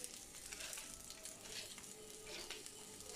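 Quiet, steady sizzling of thin eggplant fritters frying in a pan, a continuous crackling hiss with small pops, heard alone for a few seconds.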